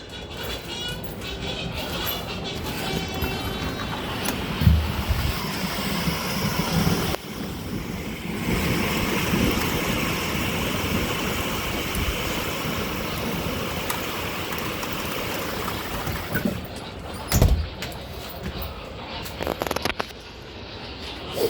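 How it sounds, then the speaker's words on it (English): Wind and rain sweep across an outdoor spot during a thunderstorm, a steady rushing wash with gusts buffeting close to the microphone, broken by a few sharp thumps and brief dips. "A little windy and a little rainy."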